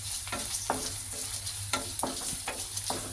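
Finely chopped Byadgi chillies sizzle in hot oil in a pan for bisi bele bath, with a steady frying crackle broken by rhythmic scrapes of a spoon stirring the mixture.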